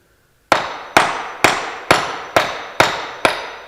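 Hammer striking cheap safety sneakers from AliExpress: seven sharp, evenly spaced impacts about half a second apart, each loud and close with a short ringing decay, after a brief silence.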